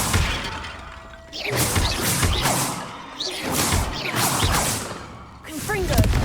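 Confringo fire-blast spells cast in Hogwarts Legacy burst out in several whooshing, crackling blasts with thudding impacts, arriving in loud surges separated by brief lulls, alongside game voices.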